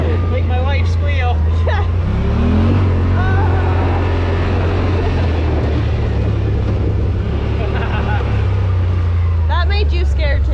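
A Yamaha Rmax 1000 side-by-side driven hard off-road, its engine a loud, unbroken roar close by, with people talking and calling out over the noise.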